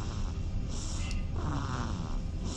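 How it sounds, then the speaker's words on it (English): A puppy snoring while asleep, a steady low rasping rumble of breaths running continuously and fairly close, alone without talk. "It's like a puppy snoring or something."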